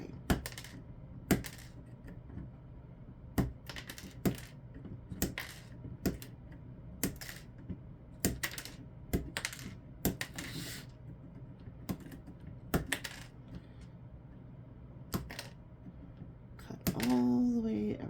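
Snips of wire cutters trimming a wire tree for attachment to a hoop, heard as many sharp separate clicks at irregular intervals, close and fairly quiet, with a brief louder rustle near the end.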